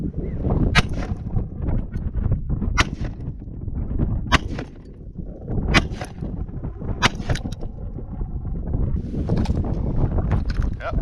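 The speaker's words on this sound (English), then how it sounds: "First thing we're going to shoot is my 9mm 124 grain HSTs from Federal." A Glock 19 fires Federal 124 grain 9mm HST rounds through a vehicle windshield outdoors, about eight loud, sharp shots in an irregular sequence over wind noise.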